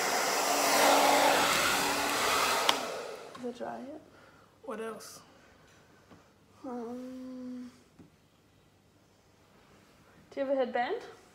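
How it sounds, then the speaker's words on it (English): A hair dryer blows with a loud, steady whoosh for a few seconds, then shuts off; people talk in the quiet that follows. "I'll get the dryer."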